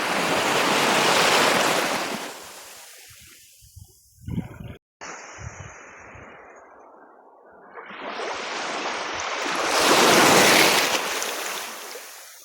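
Ocean waves at Punnaikuda beach in Sri Lanka, two big surges of surf rushing in and washing out with a quieter lull between, under gusts of wind buffeting the microphone.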